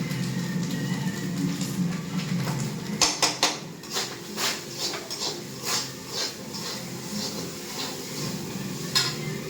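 Omelette with onion cooking in a pan, a soft sizzle under a series of close scraping and tapping strokes from a utensil against the pan, rhythmic in the middle, then quieter frying.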